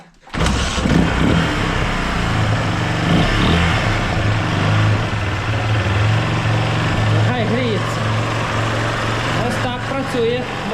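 A small motocross motorcycle engine with a weak battery and non-working starter runs steadily close by, a buzzing idle with slight revving throughout, and a voice speaks briefly over it.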